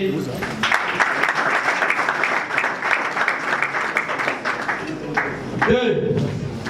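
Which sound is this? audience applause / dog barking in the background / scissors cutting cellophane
audience applause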